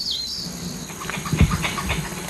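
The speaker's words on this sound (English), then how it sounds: "This is the sound of red-bellied tree squirrels." Red-bellied tree squirrels calling in the forest at Tengjhih National Forest Recreation Area: a high chirp opens, then a cluster of short, moderately loud chirps and rustling bursts over a steady forest background.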